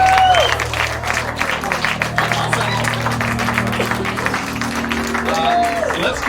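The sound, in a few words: audience applause and cheering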